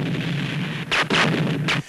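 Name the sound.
artillery and gunfire sound effect, war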